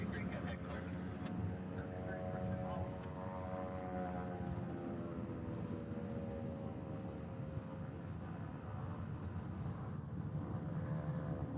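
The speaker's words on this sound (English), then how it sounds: "There's something coming in over there that I don't see on flight radar." A fixed-wing aircraft approaches near Honolulu airport in Hawaii, a steady droning engine tone holding throughout at moderate distance, with wind and background noise around it.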